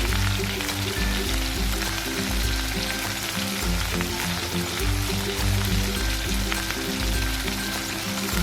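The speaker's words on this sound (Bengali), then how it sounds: "টমেটো দিয়ে আলু ভিন্ডিটা আর একটু ভেজে নেব।" Potatoes and okra frying with tomato in a pan, a steady close sizzle and crackle running continuously with no talk, over a low hum of music in the background.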